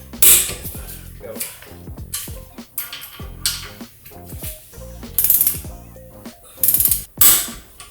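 Small wrench tightening brake rotor mounting bolts, a close run of uneven ratcheting clicks and metallic clanks with a few sharper taps and no talk.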